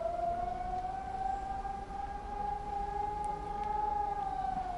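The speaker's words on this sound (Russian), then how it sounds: "а здесь сигнал тревоги, слышите? Очень странный сигнал, я такого раньше не слышал" A steady, wailing air raid alarm siren warning of an air attack in Ukraine holds a single rising-and-falling tone, fairly distant and continuous, with no voices.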